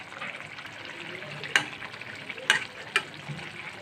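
Rohu fish fries in a pan of oil and cooked-down tomato, a soft, steady sizzle broken by three sharp pops spaced apart.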